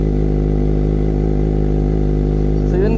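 A Kawasaki ZX-25R inline-four motorcycle engine runs close by with a loud, steady, buzzing drone that holds an even pitch throughout.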